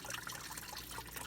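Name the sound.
Ford Edge coolant draining into catch pan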